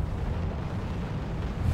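Explosions and shots striking a command vehicle in the real-time strategy game Wargame, a dense, continuous low rumble of blasts that stays loud and steady through the short stretch with no talk.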